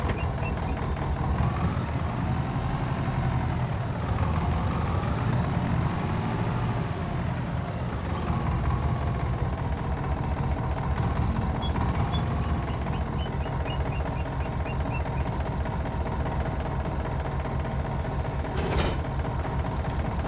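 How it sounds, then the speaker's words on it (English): A farm tractor's engine idles steadily after starting, a continuous low mechanical drone filling the whole stretch with a brief sharper burst near the end. "I really have to wonder how are these tractors made, because it starts on the first try every time"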